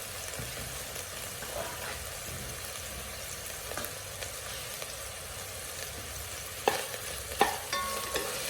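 Beef fried rice cooking in a pan: a steady, fairly quiet sizzle holds throughout, with a few sharper clicks and scrapes of stirring near the end and no talking.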